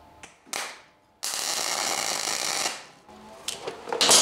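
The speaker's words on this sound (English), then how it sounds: "a small weld to hold it in place." A steel catapult upright gets tack welded nearby: short bursts of buzzing, crackling arc noise, one longer sustained sizzle of about two seconds, then brief sputters and clicks.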